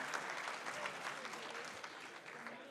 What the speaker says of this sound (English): Let's give one more round of applause to StoneAgeMarcus for that incredible, uncanny, The Binding of Isaac Afterbirth run.